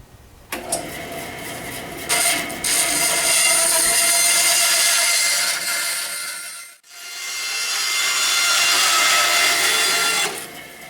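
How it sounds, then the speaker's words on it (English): A bandsaw cuts wood for a fishing rod holder, a loud steady whining buzz as the blade runs through the piece, briefly dropping off in the middle before cutting again, with clunks of wood being handled. "If you don't have a bandsaw like this, you use a crosscut saw, something to go across your line."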